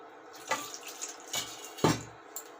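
Tap water runs into a sink during handwashing indoors, a soft continuous flow with a few louder splashes as hands move under the stream.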